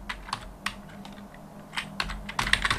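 Computer keyboard typing during accounting software data entry, with scattered close key clicks that turn into a quicker burst of keystrokes at the end, heard alone.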